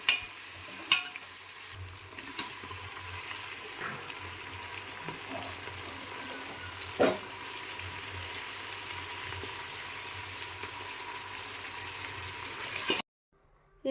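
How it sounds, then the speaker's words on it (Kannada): Onion, chilli and tomato frying in a pan for a vegetable pulao, a faint steady sizzle with occasional sharp clinks and scrapes of stirring before a sudden cutoff near the end. "ಅದಾದ ನಂತರ ಅದಕ್ಕೆ ಟೊಮೊಟೊ ಹಣ್ಣನ್ನು ಸೇರಿಸಿ ಚೆನ್ನಾಗಿ ಫ್ರೈ ಮಾಡ್ಕೊಬೇಕಾಗುತ್ತೆ."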